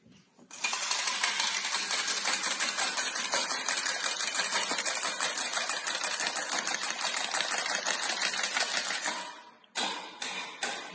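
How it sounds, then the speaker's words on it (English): An egg being whisked briskly in a bowl while baking gingerbread men, a fast continuous metallic rattling and clicking that runs loud and close for about nine seconds, then a few final taps. "Whisk the egg."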